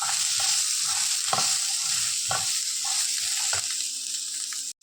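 Onions frying in a pan for a Mangalorean chickpea curry give a steady, bright sizzle, broken by several soft scraping knocks as they are stirred.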